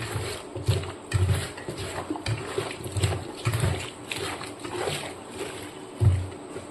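Chicken being hand-mixed with dry chillies, cumin, cinnamon, nutmeg, mace and oil, giving repeated soft squelching, slapping pulses in an irregular rhythm, close and moderately loud.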